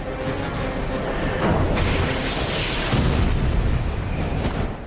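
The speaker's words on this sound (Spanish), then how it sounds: "El primer misil detonó cerca de la cola." A missile detonates near a jet's tail: a heavy, rumbling blast swells into a sustained roaring boom, loud and close, with turbulent noise carrying on for several seconds.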